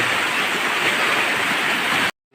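Steady rushing water fills the clip, a continuous broadband wash like a river flowing close by, then cuts off abruptly near the end.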